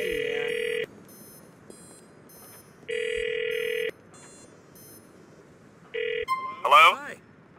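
Phone ringing in GTA 4: three separate bursts of an electronic ring, each under a second long, cut off early on the third by a brief electronic chirp, with quiet game ambience between the rings.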